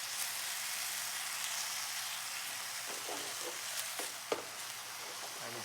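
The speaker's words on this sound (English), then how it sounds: "And you just let that saute for a little bit." Portobello mushrooms sauté in their marinade with a steady, close sizzle and a few soft stirring clicks near the end, with no talk over it.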